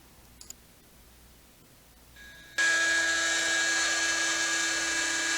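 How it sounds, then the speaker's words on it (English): A CNC router starts up and cuts into a black walnut inlay prototype: a faint click, then a rising spindle whine that settles into a loud, steady high-pitched drone with no talking. "so that I could mill this prototype or this test run on the CNC"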